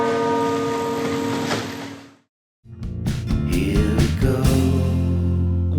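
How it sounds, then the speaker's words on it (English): Bells ring out in two bursts split by a brief silence, the second louder and denser with overlapping clanging strikes and sustained resonant tones. "just listen to these bells"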